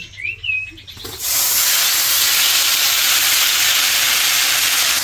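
After a quiet moment with a bird chirping, greens hit a hot griddle and burst into a loud, steady hissing sizzle that keeps going.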